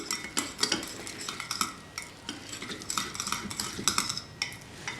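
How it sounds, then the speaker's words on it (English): Hung curd is whisked in a bowl, giving rapid, rhythmic clinks and scrapes of the whisk against the bowl, close and fairly quiet, with no talking. "we have to whisk this hung curd a little bit so that it becomes a little creamy"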